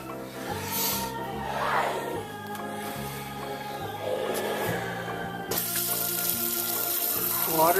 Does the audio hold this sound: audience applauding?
no